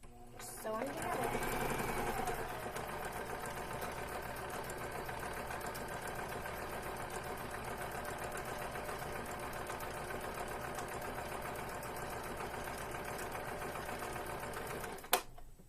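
A sewing machine stitching face mask fabric together hums in one continuous, steady run for about fourteen seconds, ending with a sharp click.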